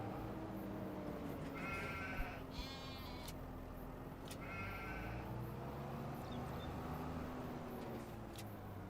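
Sheep in the video game Farming Simulator 25 bleating in several drawn-out calls over a steady hum of farm machinery, moderately close and alone.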